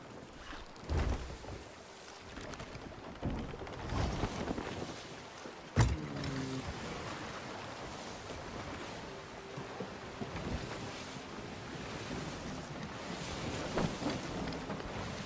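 Ship sailing on ocean waves in the video game Sea of Thieves, a steady wash of water and wind with creaking hull thumps and a sharp knock midway, fairly quiet and continuous.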